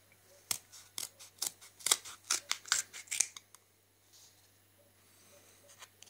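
Scissors snip open the plastic package of a Polish semi-fat cheese for Greek salad with a quick series of about a dozen close, crisp cuts, then a quieter rustle. No one speaks.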